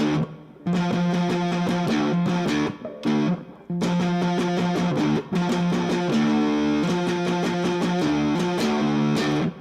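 An electric guitar in drop D plays a distorted riff, with chunky chugging notes, short stops and restarts, played alone and fairly close.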